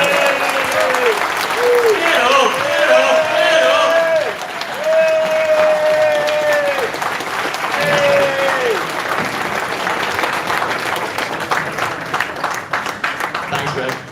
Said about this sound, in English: can I ask you to give a good round of applause and let's give a clap.